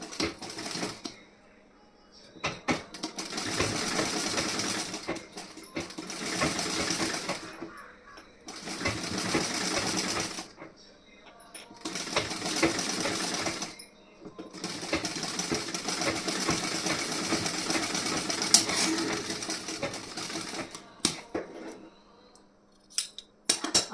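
A sewing machine stitches the front placket of a blouse in several close, loud bursts of rapid whirring, separated by short pauses as the fabric is adjusted.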